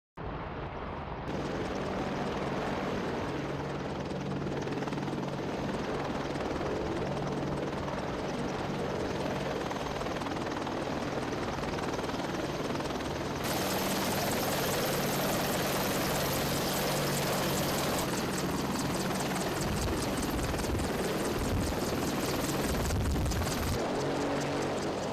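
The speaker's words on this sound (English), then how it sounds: "Users on social media have also speculated the helicopter is a Mi-24 Hind gunship" A Mi-24 Hind gunship helicopter flies with a strong, continuous rotor thrum and engine roar. The sound holds steady and then grows brighter and more intense toward the end, as if the helicopter draws nearer.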